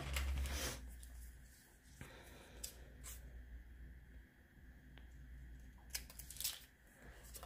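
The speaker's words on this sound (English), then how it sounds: "I think I'm going to cut it right here." Scissors cut through a sticker sheet for a fitness planner spread, giving a few faint, scattered snips and soft paper rustles in a quiet room.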